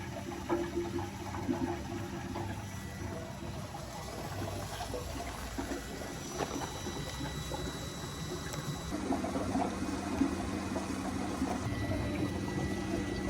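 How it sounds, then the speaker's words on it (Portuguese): Water falls steadily from a shower outlet with a constant hiss and splash, mixed with a low mechanical hum from a running pump, continuous and moderately loud. The hot shower runs off a Webasto diesel heater in a Land Rover Defender 110 camper, with a leak. "Agora dá para escutar a água caindo, ó."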